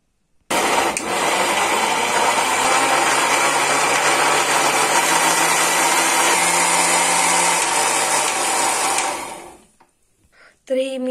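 An electric mixer grinder purees washed black grapes without added water into juice. A loud, steady motor whine holds for about nine seconds, cuts off, then briefly restarts.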